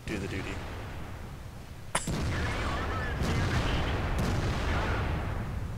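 A tank cannon fires in a tank video game: one sharp, loud blast lands mid-clip over a dense, steady rumble of engine and battle noise.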